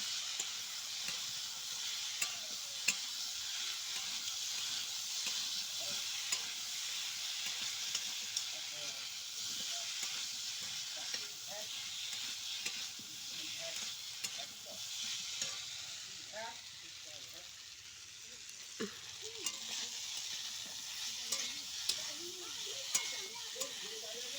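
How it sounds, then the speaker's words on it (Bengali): Fried vegetables with chopped tomato are stirred in a pan while a steady sizzle runs underneath, with soft scraping strokes repeating throughout at moderate distance. "এই যে ভেজে রাখা সবজিগুলো দিয়েছি, ভালো করে নেড়ে নিব"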